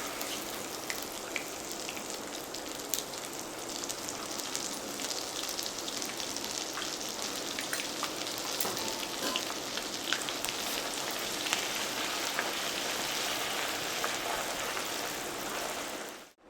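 Ginger and garlic crackle steadily in hot oil while a pickle tempering is prepared, with a dense, continuous sizzle close by that stays level throughout and is not joined by any voice.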